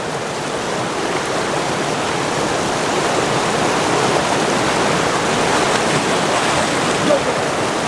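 River water near Sloquet Hot Springs rushes steadily, a loud, broad, unbroken flowing roar that carries on throughout.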